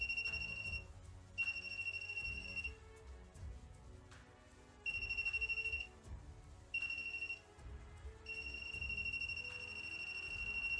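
A voltage tester held near a plasma generator on a glass table emits a high, piercing electronic tone in repeated bursts of varying length, separated by brief gaps, over a low background hum.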